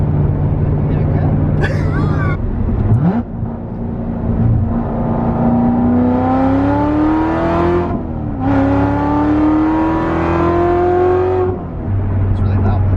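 A Corvette Z06 with headers revs loudly and close, engine pitch climbing steadily in long pulls with a brief dip and shift between them, roaring throughout with a faint voice underneath.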